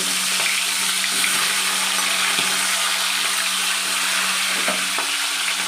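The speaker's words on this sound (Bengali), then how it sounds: "বন্ধুরা, কড়ার তেল গরম হয়ে গেছে। এবার আমি এর মধ্যে একে ইলিশ মাছের মাথাগুলো" Hilsa fish heads fry in hot oil in a wok with a continuous, dense sizzle that stays loud and even, with a few faint clicks and pops scattered through it.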